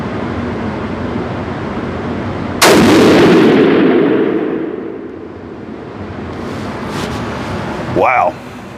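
A rifle firing Hornady ammunition for velocity testing lets off a single very loud, sharp shot followed by a long decaying echo across an outdoor range, with steady background noise before and after.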